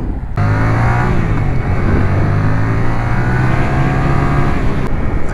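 A Yamaha MT-07 motorcycle engine hums close and loud as it slows, the steady drone gradually easing in pitch over several seconds amid wind rush, with no voices.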